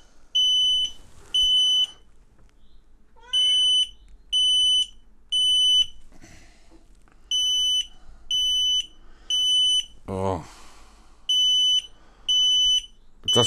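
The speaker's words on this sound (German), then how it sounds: "Das Gerät schlägt Alarm." X-Sense XS01-WT WiFi smoke detector sounding its alarm: a series of loud, piercing electronic beeps in repeating bursts, with short gaps and a brief rustling thump in the middle, no talking.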